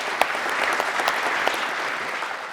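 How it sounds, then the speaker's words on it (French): A conference audience claps for a speaker in a brief, even burst of applause from a room of people, steady and moderately loud throughout. "Vous pouvez l'applaudir."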